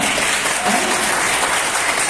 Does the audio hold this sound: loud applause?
yes